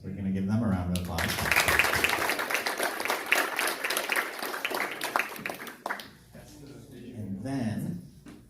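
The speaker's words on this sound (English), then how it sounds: "So we're going to give them a round of applause." Crowd at a hackathon award announcement claps loudly for several seconds. A speaking voice is heard briefly before the applause and again as it dies down.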